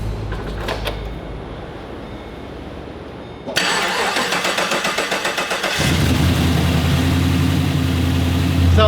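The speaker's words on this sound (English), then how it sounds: "I went to fire it up, and for the first time, it actually sounded like somewhat of a V8" A large V8 car engine cranks, catches and roars to life, then settles into a loud, throbbing idle up close.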